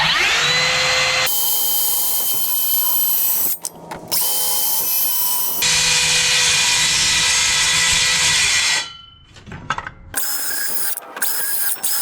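A circular saw cuts repeated kerfs into 2x4 construction lumber for a mortise, its high whine loud and close, running in long bursts separated by brief pauses and spin-downs.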